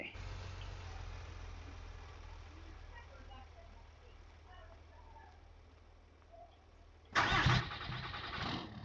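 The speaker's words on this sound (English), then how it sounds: "this Dodge just always sound pretty good" A Dodge pickup truck engine in the video game Farming Simulator 22 cranks and starts up abruptly near the end, a loud burst after a long stretch of low idling hum and quiet background noise.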